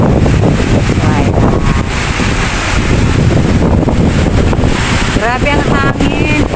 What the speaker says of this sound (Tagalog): Grabe ang hangin, tapos ang lamig pa.